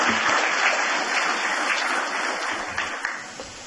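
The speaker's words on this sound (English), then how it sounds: "Let's give them a round of applause." Warm applause from an audience at a government board meeting, steady dense clapping for about four seconds that tapers slightly at the end.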